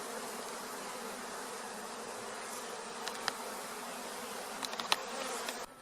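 Worker honeybees swarm at an open beehive, a dense, steady buzzing drone close to the ear with a few sharp clicks and knocks scattered through the latter half.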